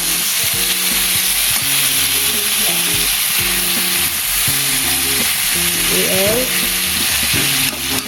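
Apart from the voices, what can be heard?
stirring string beans (sitaw) frying with longganisa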